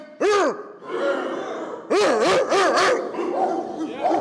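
Dogs bark in sharp, loud bursts, one bark, then a quick cluster of three or four, with yips and whimpering in between and possible human vocal sounds mixed in, close to the listener.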